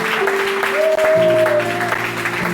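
A church congregation claps together at a service at Emed Temple Bethel. The applause is a dense, steady patter that lasts throughout, with sustained musical tones running underneath it.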